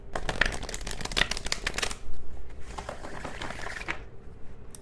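A deck of tarot cards is shuffled by hand in two bursts of rapid riffling and patter, close and fairly loud, with a brief pause between them and no talk over it.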